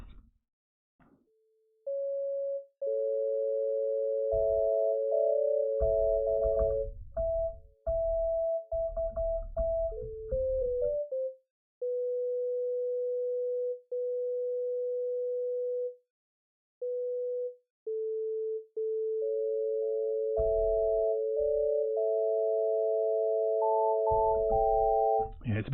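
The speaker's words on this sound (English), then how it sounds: "Let's see if we can play a proper chord," A synthesizer played from a MIDI controller holds steady, bright tones with notes shifting and stacking into chords, alone and fairly loud, with brief gaps and some low rumbling noise under parts of it.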